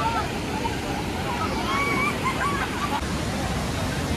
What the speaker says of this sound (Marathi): आणि ही पाताळगंगा नदी.